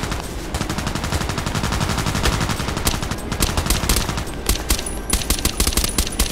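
Rapid, loud gunfire from the shooter game Contract Wars, sustained automatic bursts cracking in dense succession with a few sharper single shots toward the end, no talk over it.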